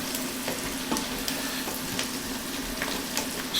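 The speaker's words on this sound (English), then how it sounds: "saute these all together." Garden vegetables and about half a cup of parsley sautéing in a pan, giving a steady, close sizzle with scattered soft clicks of stirring throughout.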